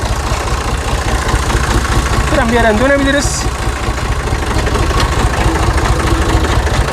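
A tractor engine idling with a steady low, rhythmic chugging throughout while someone talks briefly over it; the tractor is fitted with a hydrostatic steering system.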